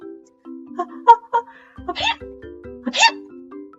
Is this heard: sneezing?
yes